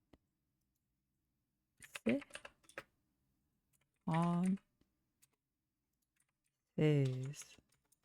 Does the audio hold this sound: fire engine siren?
no